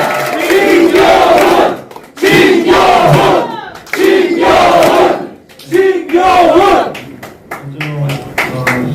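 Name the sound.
crowd applause and cheering for the candidate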